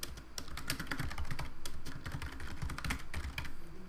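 Steady run of light clicking keystrokes on a computer keyboard as a heading is typed into a Google Colab notebook, close and continuous over quiet room tone.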